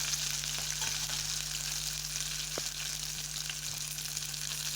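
Chopped garlic sautéing in oil in a pan for a village-style Tamil vathal kuzhambu, giving a steady loud sizzle with faint scrapes of stirring throughout.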